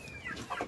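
Short bursts of clucking from young chickens being fed in a coop, moderately loud and close, with a few quick overlapping calls and no talk.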